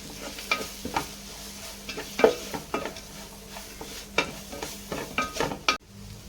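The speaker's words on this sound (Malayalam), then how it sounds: "ഇളക്കി കൊടുക്കാം" Chicken masala being stirred in a frying pan for a village-style biryani, with soft scraping strokes and faint sizzle at an irregular pace, close and fairly quiet.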